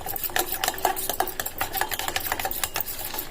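A spoon stirs a spoonful of gram flour with a little water in a small bowl, giving quick, rhythmic clinking and scraping taps that repeat steadily and fairly close.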